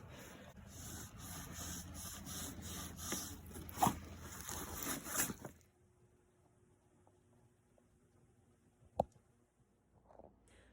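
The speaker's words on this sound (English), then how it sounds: "want to get the chunkier pieces of the grease out first using this before we switch to a cleaner cloth" Cloth rubbing and scraping chunky grease off a part of a T86 three-speed overdrive transmission from a 1955 Ford Customline, a close, steady rough rubbing for about five seconds, then near quiet with a single sharp click.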